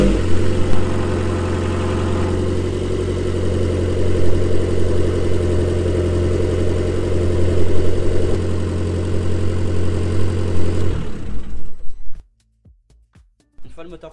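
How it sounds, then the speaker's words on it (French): A Fiat 500 Abarth engine idles after an oil and filter change, a loud steady rumble with slight revving swells that cuts out abruptly near the end, followed by quiet clicks. "Ensuite, on va démarrer le moteur, le laisser tourner quelques minutes."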